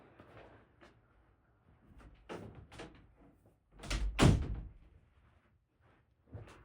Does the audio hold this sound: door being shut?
yes